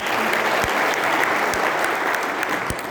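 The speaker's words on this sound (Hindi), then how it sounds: "जिनके लिए जोरदार ताली हो जाए" An audience bursts into steady, dense applause during a stress management speech, the clapping continuing evenly at moderate loudness throughout.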